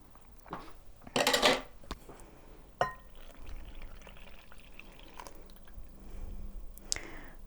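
Buttermilk poured and slowly mixed into eggless scone dough in a bowl: a short liquid pour, then soft wet squelching and stirring, with a clink and quiet sticky sounds close by.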